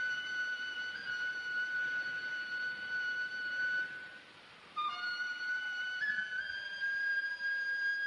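A flute in the animated ninja series Sasuke plays a sustained, steady, shrill melody. The tone is held at length, breaks off briefly, then resumes at a slightly higher pitch, alone with no talk.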